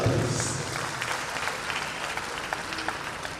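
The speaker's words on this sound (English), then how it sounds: "A round of applause for the inaugural lecture, please." An audience applauds an inaugural lecture at a university ceremony, with sustained, even clapping from a sizable crowd, loud at first and then tapering slightly, a faint voice briefly audible at the start.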